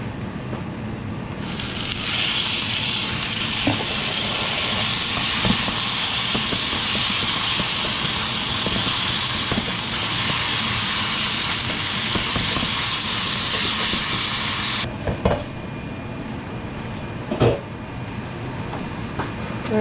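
Pork ribs sautéing in a pan with tomato, onion and garlic give a loud, steady broadband hiss that starts after a second or so, runs for about thirteen seconds, then drops away to a few scattered clatters.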